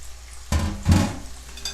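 Peppers hit a hot pan for a homemade çiftlik kebab, giving two sharp bursts of sizzling frying up close over a steady background hiss, with no talking.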